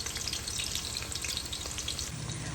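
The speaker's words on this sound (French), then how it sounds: "Ensuite, une fois que mon huile est chaude, je vais y ajouter mes oignons." Onions frying in hot vegetable oil in a pan give a loud, steady, dense sizzle that crackles evenly throughout, with a brief shift in tone near the end.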